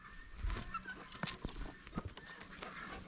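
Chickens, guinea fowls and ducks on a countryside farm in Zimbabwe, scattered clucks, short calls and honking squawks from fairly close by over a busy outdoor background.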